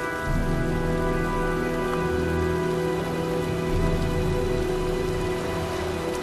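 Steady rainfall from the video game Heavy Rain, a continuous broadband patter with a faint low rumble beneath and sustained tonal music layered over it, even in level throughout with no talk.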